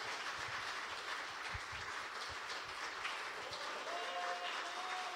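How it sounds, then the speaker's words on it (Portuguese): A church congregation claps in praise, a broad, steady wash of applause that sounds distant and hissy, continuing evenly from start to finish. "você pode aplaudir a Jesus?"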